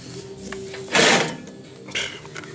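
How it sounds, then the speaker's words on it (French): Recoil starter on a Nautac Quantum XM engine pulled, a sharp ratcheting whir that swells in one brief burst, then a second shorter pull, close up with faint mechanical clicks around it. "Ça, c'est le bruit que fait le lanceur."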